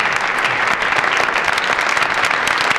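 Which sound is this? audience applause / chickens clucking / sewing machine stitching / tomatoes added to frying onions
audience applause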